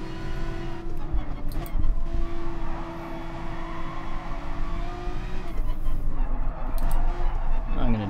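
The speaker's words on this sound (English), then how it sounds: "This Nissan GTR just losing traction a bit." Nissan GT-R race car in GT Sport on the Nordschleife, losing traction: a sustained engine drone with shifting pitch, brief tire squeals and skids, and someone talking over it.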